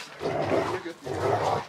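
Several dogs bark and growl indoors during attic room conversion work, in two sustained loud bursts of about 0.8 seconds each separated by a short dip, fairly close and with no clear talk over them.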